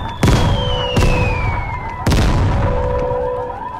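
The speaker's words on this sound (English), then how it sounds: "Now mortars come down." Mortar shells land in the video game Vigor: three sharp explosions about a second apart, each with a falling whistle trailing across the blasts, loud and close.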